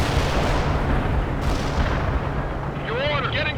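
Heavy artillery fire support in the World in Conflict video game: a dense, continuous roar of distant barrage and rumbling explosions filling the whole stretch, with a brief whistling streak near the end and battlefield chatter mixed in.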